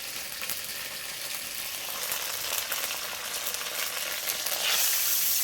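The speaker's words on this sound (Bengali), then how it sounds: "ভালো করে সমস্ত মশলাগুলো আমি ভেজে নেবো।" Spice paste loosened with water fries in a pan, a steady close sizzle with soft stirring that swells louder toward the end, with no talking.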